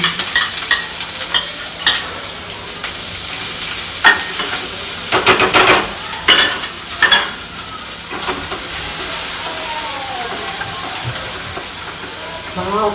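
Ginger-chilli and garlic paste fries in a ghee tempering, a loud steady sizzle broken by bursts of spattering and scraping stirs of a spoon in the pan.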